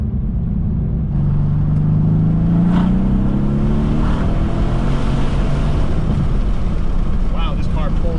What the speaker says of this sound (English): Wow, this car pulls like an absolute freight train.